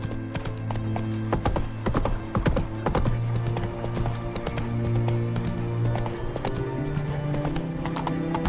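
A horse gallops in Witcher 3: Wild Hunt, with rapid, steady hoofbeats throughout and a brief whinny early on. Harness jingles and game music sit underneath. No one talks.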